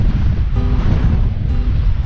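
Strong gusts roar across the high moor on Dartmoor, buffeting loudly and continuously close to the microphone.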